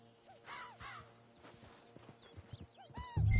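A horse in the video game Red Dead Redemption 2 whinnies and snorts a few times amid ambient outdoor game sound, with hoof thuds toward the end.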